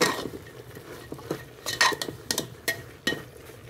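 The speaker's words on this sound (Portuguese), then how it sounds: "É só dar aquela misturada" A utensil stirs beans with okra leaves in a pot, scraping and clinking against the sides in an irregular series of sharp knocks over a faint background sizzle.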